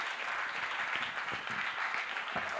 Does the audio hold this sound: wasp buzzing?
no